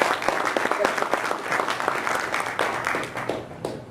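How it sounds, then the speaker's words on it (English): An audience claps for a speaker being introduced at a talk, with dense, steady applause lasting about four seconds and easing slightly toward the end. "Everyone, please give a round of applause."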